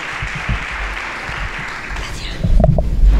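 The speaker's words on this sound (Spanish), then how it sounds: "Pido un fuerte aplauso para nuestra alcaldesa." Room full of guests at a mayor's breakfast colloquium breaking into applause, loud and close, building into dense clapping toward the end, with some microphone handling noise mixed in.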